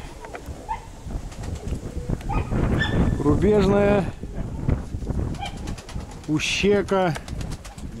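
Pigeons at a dovecote are chased into flight, with flapping wings and bird calls mixed with a barking dog and someone talking in Russian over outdoor background noise.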